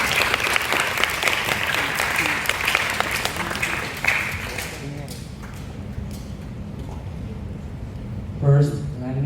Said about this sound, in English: Please welcome them with a warm round of applause.